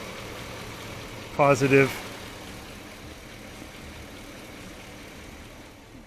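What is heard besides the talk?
GMC Yukon engine idling during a jump start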